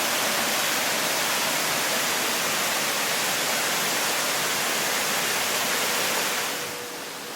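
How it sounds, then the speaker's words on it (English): Waterfall on the grounds of a luxury villa in Costa Rica, a steady, dense roar of rushing water close by that holds constant before easing slightly near the end. "there's several different waterfalls"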